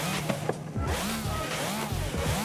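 A Pagani Zonda R supercar engine in a video game growls and revs in short bursts, pitch sweeping up and down between gear shifts, moderately loud and continuous, with no voices.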